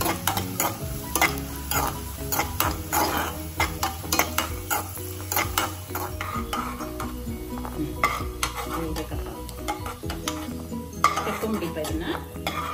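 Raisins roasting in a pan on low heat for mung dal payasa, with busy rhythmic stirring, clinking utensil taps and a soft sizzle, steady and close throughout.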